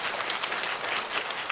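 Church congregation breaking into steady, dense applause that fills the room, loud and continuous with no voices over it.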